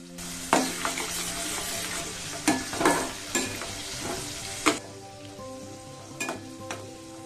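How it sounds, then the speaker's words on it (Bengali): Chopped ginger fries in a pan for a chutney, a steady sizzle punctuated by several loud metallic scrapes and clanks of stirring at irregular intervals, with no talk. "এটা হালকা একটু 20-25 সেকেন্ডের মতন একটু ভেজে নিতে হবে"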